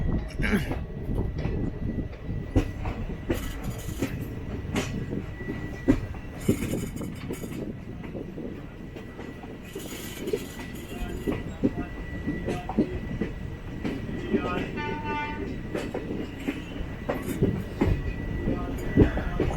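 The 22628 Trichy Intercity Express runs on rails between Trivandrum and Trichy, heard from on board. A steady, continuous rumble carries faint rhythmic wheel clatter and occasional squeaks for the whole stretch.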